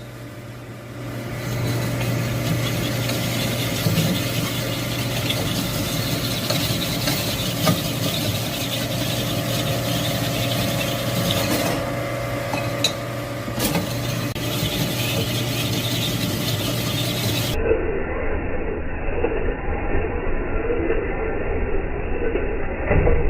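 A connecting rod honing machine spinning at high speed, a steady loud mechanical whir and hum with a faint whine that runs continuously at close range, with the tone shifting slightly near the end.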